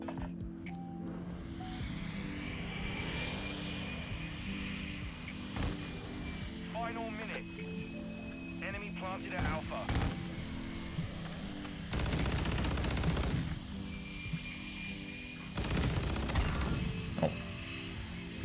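Gunfire and heavy mechanical combat noise from a VTOL aircraft attacking in a first-person shooter game, steady rumbling under scattered shots, with two loud sustained bursts of fire near the end; a player talks over it at times.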